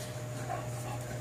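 A Shar Pei puppy and an older pit bull puppy play together, giving off brief close dog noises over a steady low hum.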